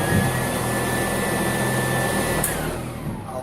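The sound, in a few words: vacuum cleaner running on a rug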